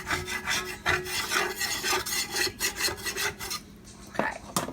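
A utensil scraping browned bits off the bottom of a pan while cooking pork chops: close, rough rasping strokes repeated in a steady back-and-forth rhythm, with no talking.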